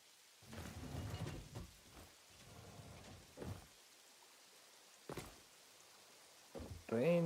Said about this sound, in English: Rain comes.